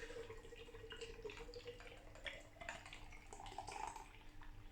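Rio Scale IPA poured from a bottle into a stemmed glass, a quiet continuous trickle and splash of liquid with a few faint drips.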